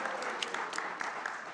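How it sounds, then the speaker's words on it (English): A talk audience in Brooklyn claps briefly, a soft, steady patter of many hands at moderate distance with occasional sharper claps, fairly quiet throughout. "Well, you could clap for bike lanes."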